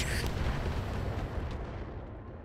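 A modded Marauder mech in the BattleTech game firing sniper artillery and twin plasma cannons, heard as a single heavy, sustained rumbling blast that fills the clip and slowly fades.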